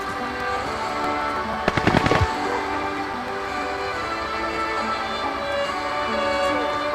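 Gunfire in the video game Modern Warfare, a short rapid burst of shots near the middle, fairly distant against a steady rumbling background.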